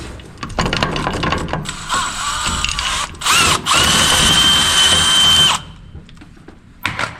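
A power drill whirs in loud, sustained bursts with brief stops, grinding and rattling as it bites, then falls quiet before a short final buzz, during work on a 3.0 diesel pulling truck.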